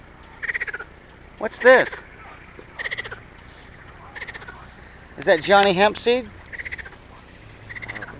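Frogs in Ukraine croak in loud, rasping, bleating bursts, scattered calls rising into a denser chorus, with a voice talking briefly between them.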